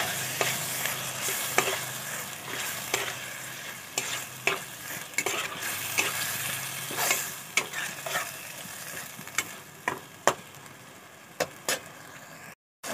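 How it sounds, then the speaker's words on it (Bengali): Mushrooms stir-fry in a pan, a continuous close sizzle broken by frequent sharp scrapes and knocks of a spatula against the pan, the stirring turning sparser toward the end. "মাশরুমটা দিয়ে ভালো করে আবার কষাবো।"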